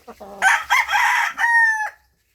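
A rooster kept in a plywood-walled container chicken house crows once, close and loud, a drawn-out call preceded by a couple of short clucks, then silence.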